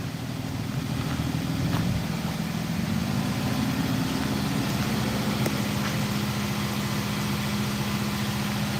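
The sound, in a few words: 2018 Nissan NV 3500 5.6 L engine idling, exhaust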